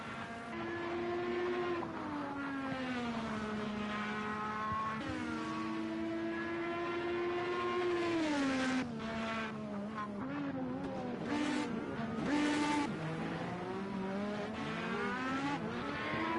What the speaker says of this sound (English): I just heard the engine noises